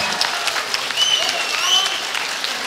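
Audience applause at a school concert in a hall, a steady dense patter of clapping from a crowd, close and fairly loud, with a few faint whistles and voices mixed in.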